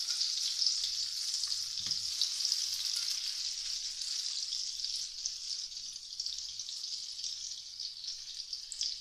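Sliced boiled potatoes sautéing in a pan give a steady, even sizzle that holds for several seconds, close and fairly soft, with one brief low knock early on and no talking.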